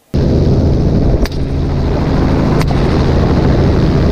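From a helicopter on a hog hunt, a rifle shot cracks hard over the constant loud roar of the rotors and engine, and a second, sharper report follows a moment later.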